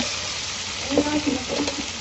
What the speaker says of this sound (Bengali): এবার এই তেলে মাংসগুলোকে ভালো করে ভেজে নিতে হবে।